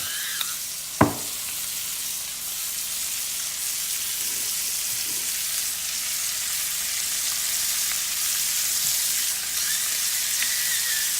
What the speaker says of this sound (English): I'm just cooking it in butter